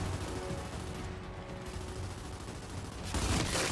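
Rapid bursts of gunfire from a PC shooter video game, dense and continuous, with a louder barrage toward the end.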